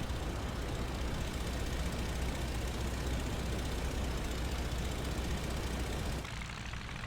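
A Fokker D.VII biplane engine in the WWI flight game Rise of Flight drones steadily and at moderate level for several seconds, then dips slightly near the end.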